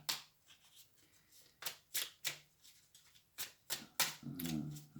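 A deck of tarot cards is shuffled by hand nearby, a run of quick, crisp riffling bursts with brief pauses between them, heard alone.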